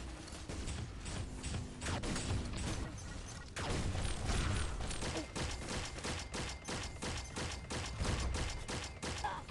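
Rapid gunfire bursts from the mobile shooter game Pixel Gun 3D, dense repeated shots in a chaotic multiplayer match, continuous throughout with brief lulls, fairly quiet in level.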